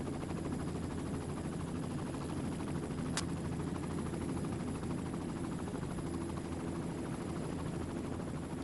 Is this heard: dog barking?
no